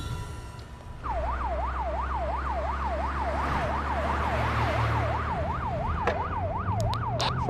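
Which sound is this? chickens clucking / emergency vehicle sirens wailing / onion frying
emergency vehicle sirens wailing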